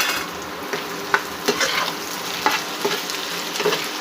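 Dried fish (shutki) frying in a pan, a soft steady sizzle close by, broken by a few sharp scrapes and taps of a spatula stirring, with no voices.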